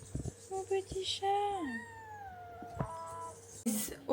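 A cat meows several times in short, close, rising and falling calls, with some background sounds in between, outdoors at a holiday rental in Martinique.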